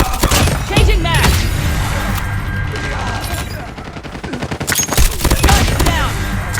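AK117 gunfire in Call of Duty Mobile rattles in rapid automatic bursts with thumping impacts and brief pauses, while game voice callouts speak over the shooting.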